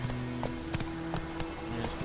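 Hooves clip-clop at a steady trot in The Witcher 3, a regular rhythm of soft thuds over a constant low ambient drone, close and fairly faint, with no talking.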